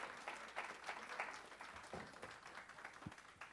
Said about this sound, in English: Everybody give Ben a round of applause,